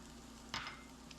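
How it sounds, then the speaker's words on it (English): Mushrooms in olive oil in a pan give a soft, steady sizzle with a brief hiss and stir near the middle, faint and close, with no talking. "A little bit of olive oil. As usual. We'll throw in our mushrooms first."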